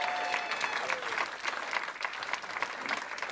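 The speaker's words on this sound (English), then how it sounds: "Let's give her a big round of applause." Wedding guests applaud at a country club reception, a dense steady patter of many hands clapping throughout, fairly even in level with no talk on top.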